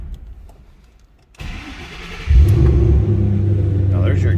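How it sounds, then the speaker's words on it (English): A 2007 Ford Mustang Shelby GT500 cranks and fires up, the starter whirring briefly before the engine catches with a loud rumble and settles into a steady, deep idle close by. "Let's go ahead and fire this up so you can hear it run."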